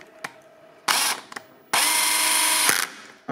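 A power screwdriver runs in two short bursts at low torque, driving a screw into an electric scooter's controller mounting, with ratcheting clicks and small knocks between the bursts; close and fairly quiet.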